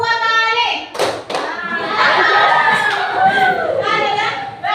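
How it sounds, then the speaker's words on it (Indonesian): Children in a classroom clap their hands in short counted bursts, loud and close, mixed with young voices and bustle. "Tepuk 3 kali."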